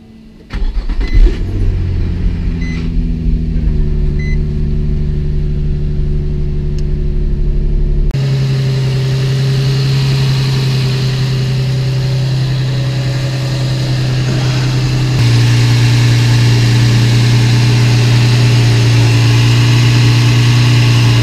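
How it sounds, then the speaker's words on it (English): A Nissan 350Z with the VQ35DE V6 cranks and starts after an oil and filter change, then settles into a steady, loud idle that shifts slightly in pitch as it runs, heard close up without talk. "now I'm going to give the car a quick start, just to let it run for a little bit"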